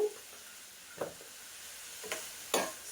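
Amaranth leaves (thotakura) fry in a pan while a utensil stirs them, a faint steady sizzle broken by a few distinct scraping strokes, the last one loudest.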